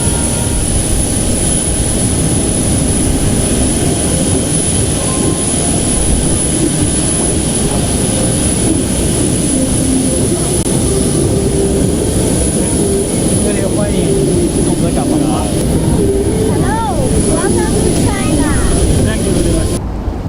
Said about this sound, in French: l'avion du président de la transition a atterri à l'aéroport international de Beijing